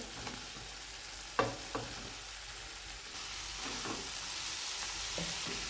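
Chopped tomatoes and capsicum frying in a pan for cheese pav bhaji make a soft, continuous sizzle, broken by a few light stirring clinks and scrapes, with no voices.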